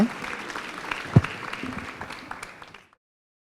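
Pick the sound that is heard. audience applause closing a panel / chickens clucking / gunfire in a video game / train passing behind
audience applause closing a panel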